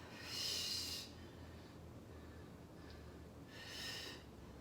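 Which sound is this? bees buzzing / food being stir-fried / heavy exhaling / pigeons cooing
heavy exhaling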